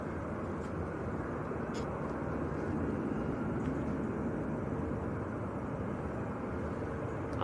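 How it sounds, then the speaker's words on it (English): A KLM Airbus A321neo from Amsterdam comes in to land at Manchester Airport under cloud, a steady broadband jet roar at moderate distance holding level throughout. "next to land, Tom's telling me it's the KLM A321 Neo from Amsterdam."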